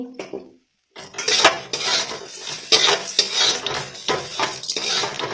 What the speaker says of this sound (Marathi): थोडस याला परतून घ्यायचं आहे